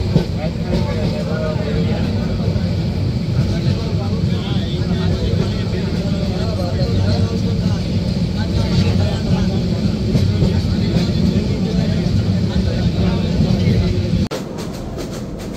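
Aboard the Mohanagar Express 722 from Dhaka to Chittagong, a steady loud rumble and rattle of the moving train carries on unbroken, dropping in level just before the end.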